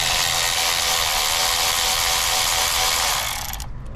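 A ratchet clicks in a rapid, continuous run while loosening a 10 mm bolt on a Honda CR-V engine during a spark plug change, close and loud, stopping abruptly near the end.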